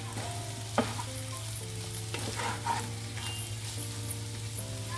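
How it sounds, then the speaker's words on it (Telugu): Prawns sizzle steadily in a pan with chili powder and salt while a spoon stirs them in occasional scraping clacks, close up with no voices. "కొద్దిగా ఫ్రై అయింది కదా, ఇప్పుడు కారం ఉప్పు అన్నీ వేసేసుకున్నామండి"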